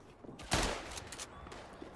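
Rapid rifle shots crack in a World War I battle in the game Tannenberg, one loud burst near the start followed by scattered fainter shots at mid distance.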